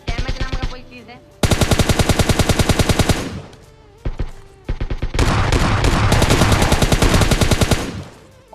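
Loud bursts of rapid automatic gunfire from a gun in a shooting video game, several long sustained volleys separated by brief pauses, heard up close.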